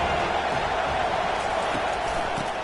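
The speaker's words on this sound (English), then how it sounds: "Decibels rising as the crowd gets behind this defense on third down." Steady stadium crowd roar in a college football video game, a loud continuous wash of voices rising on a third down with no distinct breaks, heard on its own.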